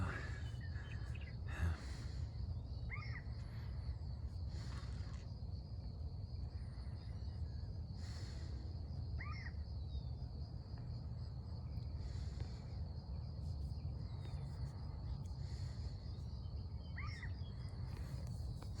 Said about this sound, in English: And you hear that bird,